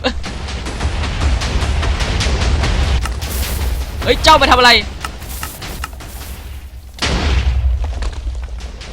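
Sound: TNT explosions in the video game Minecraft

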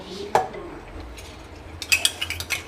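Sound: adding remaining rice into the chicken biryani pot

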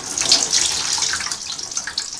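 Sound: water poured from a dipper rinsing a Singer 301A sewing machine

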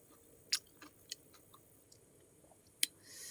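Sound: chewing crunchy fresh fruit

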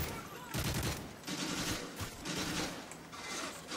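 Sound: gunfire in Modern Warfare 3 survival mode, video game

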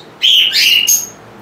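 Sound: lovebirds chirping

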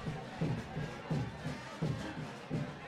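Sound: football crowd cheering at Chapadinha vs Pinheiro match

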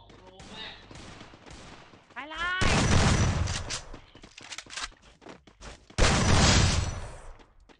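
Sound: gunfire in the Free Fire video game

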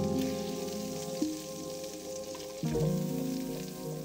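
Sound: pan sizzling while deglazing steak pan with sweet port wine

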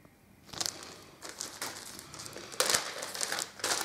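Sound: unwrapping sticker packaging

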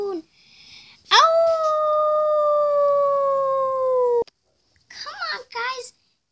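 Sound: voice imitating a howl at the moon

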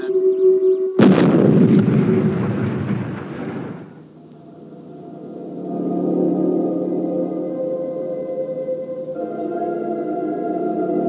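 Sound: spaceship firing main retro rockets

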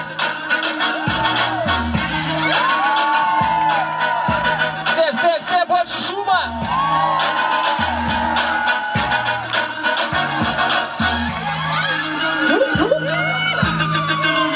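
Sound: audience clapping and cheering for a dancer

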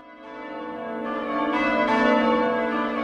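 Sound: ringing bells

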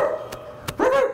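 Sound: voice imitating a dog barking

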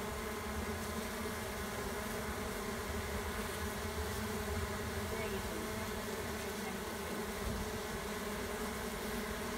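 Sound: swarm of honey bees fanning at hive entrance

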